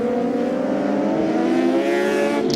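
A Rizla Suzuki superbike screams past at Oulton Park during a British Superbike race, its engine a loud, sustained high-revving wail that sweeps upward in pitch as it goes by, with no voices.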